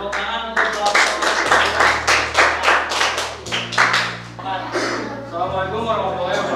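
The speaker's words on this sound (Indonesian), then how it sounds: "Tepuk tangan untuk kelompok." Classroom clapping for a student group during a teacher-training lesson: a steady run of sharp, fairly close hand claps over several seconds, with a low steady hum or tone running underneath.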